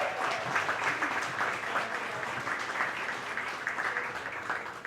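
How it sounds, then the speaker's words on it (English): An audience applauds a woman named Gigi at a Latino heritage event, the clapping forming a steady, dense wash that holds at even loudness throughout with no talk over it. "let's give her a huge round of applause"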